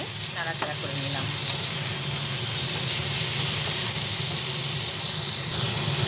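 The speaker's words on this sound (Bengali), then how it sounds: "নুন দিয়ে যে টমেটোটা কেটে রেখেছিলাম টমেটোটা ঢেলে দিলাম। আবার ভালোভাবে সব একসঙ্গে নাড়াচাড়া করে নিলাম।" Salt and chopped tomato stirred in a hot pan for a fish-head and Malabar spinach curry, sizzling and hissing loudly and steadily throughout, with a few spoon scrapes near the start.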